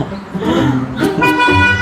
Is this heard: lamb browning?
no